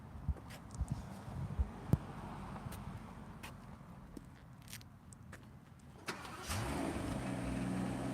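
A 2021 Rolls-Royce Cullinan starts up after a few close clicks and handling sounds; the engine catches with a soft crank and settles into a quiet, smooth low hum that holds steady to the end.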